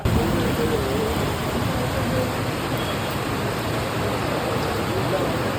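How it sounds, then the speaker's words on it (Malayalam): Heavy rain falls outdoors near a cinema at a film festival in Kottayam, a dense, loud, unbroken hiss of downpour with no other sounds standing out. "പടം കണ്ടിറങ്ങിയപ്പോൾ പുറത്ത് നല്ല മഴ."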